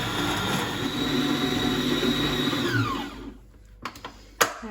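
An electric mixer whirs steadily while creaming cupcake frosting for red velvet cupcakes, then winds down and stops, followed by a couple of faint knocks.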